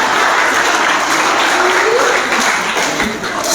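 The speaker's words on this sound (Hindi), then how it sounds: "भरपूर तालियां के लिए" At a Teachers Day programme at an academy in Chawinda, an audience breaks into loud, dense applause that carries on steadily for a few seconds before easing slightly at the end.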